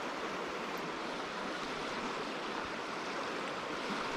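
Turbulent salmon river water rushes steadily around a wading fly-fisher, a dense, even roar with no pauses that fills the whole clip at moderate loudness.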